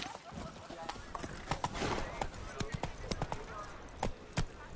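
Roach the horse's hooves clip-clop in a steady walking rhythm in The Witcher III: Wild Hunt, up close beside game ambience, with voices talking over the hoofbeats.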